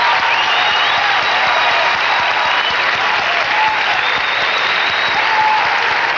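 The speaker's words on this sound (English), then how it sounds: "And here comes the applause" Crowd at the 1987 Westminster Kennel Club dog show applauding in the herding group, a steady, full-bodied roar of clapping that holds at an even loud level throughout.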